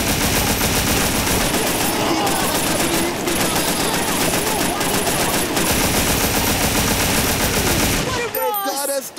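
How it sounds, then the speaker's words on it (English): Sustained machine-gun and gunshot fire from a Scarface: The World Is Yours gang shootout, loud and dense with rapid bursts for about eight seconds before cutting off into brief game effects. "You gotta stop this shooting, man."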